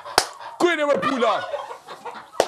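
A farm hen gives a short run of clucking calls up close, framed by a couple of sharp slap-like thumps before and after.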